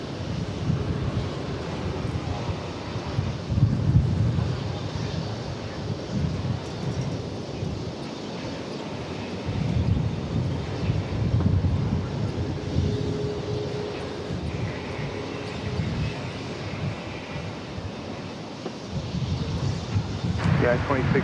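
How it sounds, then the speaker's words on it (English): Gusty wind buffeting a microphone outdoors at an airport, a low rumbling roar that swells and fades over the whole stretch, with faint distant aircraft noise and a voice speaking underneath. "The wind just decided to move our tripod, which I thought was locked down"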